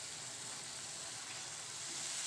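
Boiled raw banana fried with masala in a pan: a thin, even sizzling hiss, faint and unbroken, held steady from start to finish without talk.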